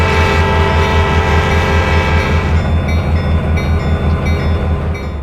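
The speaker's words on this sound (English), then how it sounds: "2 CSX locomotives arrived with replacement boxcars" Two CSX locomotives roll in hauling replacement boxcars, a loud, steady rumble of diesel engines and rolling cars with sustained horn-like tones throughout, close by and without talk.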